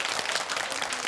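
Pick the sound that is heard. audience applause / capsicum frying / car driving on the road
audience applause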